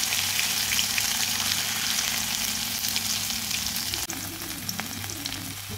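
Mustard seeds, cumin and crushed garlic sizzle loudly in hot oil, a continuous close hiss with faint popping and a short clatter near the end.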